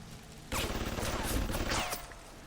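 Automated turret fire in BioShock Remastered, a sustained rattling volley of shots starting abruptly and running for about two seconds at close range, with no talk over it.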